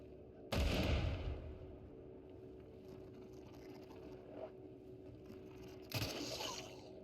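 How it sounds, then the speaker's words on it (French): Grenade explosion in the VR shooter Into the Radius: a loud, sharp blast with a rumbling tail, followed by quiet ambience and a second burst near the end. "J'ai balancé une grenade sans faire exprès"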